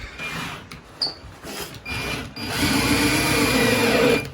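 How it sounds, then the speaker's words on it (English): A power drill whirs through wood in short bursts while pre-drilling holes in a bathroom vanity, then runs in a longer steady grind, close and fairly loud. "I'll pre-drill the holes here, so you won't see it"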